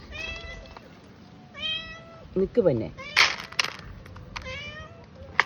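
A pet cat meows again and again in a home setting, with several clear, drawn-out calls spread across the moments. A person talks over and between the meows, and soft knocks and rustles come and go.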